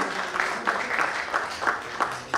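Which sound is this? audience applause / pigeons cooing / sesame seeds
audience applause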